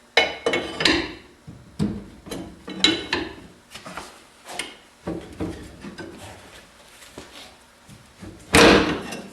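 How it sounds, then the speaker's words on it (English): A flat bar levers an old rear shock absorber off against a suspension piece, producing repeated heavy metallic clunks and knocks at an uneven pace, close and loud, ending in one harder bang. "grab your flat bar and pry the bottom of this old shock off"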